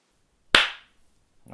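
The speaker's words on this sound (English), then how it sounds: "Let me clap." A single sharp hand clap rings out in a quiet room, decaying quickly, followed by the start of a voice at the end.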